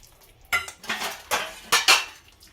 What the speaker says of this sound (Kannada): ಹುಣಸೆಹಣ್ಣು ಹಾಕೊಂಡು ನೀಟಾಗಿ ಉಜ್ಕೊಳ್ಳಿ